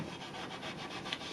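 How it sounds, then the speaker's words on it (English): Steady, close rasping rubs of abrasive sanding a plastic Fallout 4 Pip-Boy replica surface, repeated in quick even strokes with no talking. "giving a quick once over, rubbing the surface"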